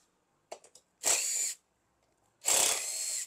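Power drill backs out screws while luggage cases are fitted to a Yamaha XSR155 motorcycle: a few quick ticks, then two short whirring bursts of about half a second each, close and fairly quiet, separated by silence.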